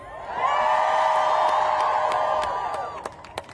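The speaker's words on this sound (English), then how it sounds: "Can we give a round of applause for Aisha from Feminists?" A crowd at a People's March rally in Washington, DC cheers and whoops for a speaker. The sustained roar of voices runs about two and a half seconds, then fades, leaving a few scattered claps.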